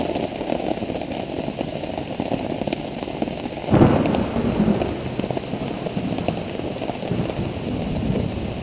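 Steady rain patters throughout on the Rogue River during a storm, with a sudden low rumble of thunder breaking in partway and rolling on for a few seconds.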